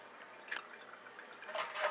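Muddy rainwater is poured into a homemade charcoal water filter, giving faint, brief splashy trickles and drips in two small bursts in an otherwise quiet setting.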